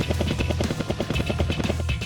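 Rapid, steady rotor thumping of a helicopter, loud and continuous throughout, with a low chopping rhythm and no talking.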